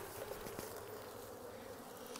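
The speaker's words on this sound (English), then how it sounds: "I'm just gonna shake these bees out." Honeybees, shaken out of a colony for a university study, fill the air with a steady, dense buzzing swarm that holds at a low, even level throughout.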